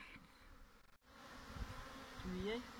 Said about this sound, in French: nous voici de nouveau avec un nouvel essaim qui vient d'essaimer